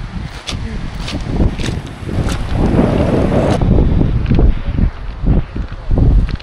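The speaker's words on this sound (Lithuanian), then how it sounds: "Vėjai iš visų pusių, bet ne šalti." Strong wind buffets the microphone on a beach on Hiiumaa island, Estonia, a steady loud rumble with gusty swells and occasional sharp thumps, no voices.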